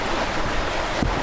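Steady 13-knot wind roars over open sea, with rushing waves and a brief gusty buffet near the end.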